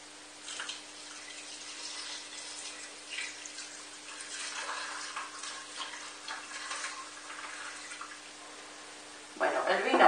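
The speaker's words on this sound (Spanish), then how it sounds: "echamos el agua." Water is poured into a GM F pot holding a sofrito of onion, garlic and tomato for fish soup, making a steady, quiet running sound that swells into a louder splash at the end.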